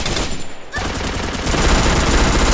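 Dense machine-gun fire from the Free Fire battle royale game rattles continuously and loudly, with a brief lull before sustained bursts resume and build to the end.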